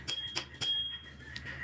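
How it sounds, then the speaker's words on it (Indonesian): Button-operated bell on an electric scooter rings in a few quick, bright dings, two sharp strikes then a softer one, close and clear with a faint background hum. "Ini untuk bel."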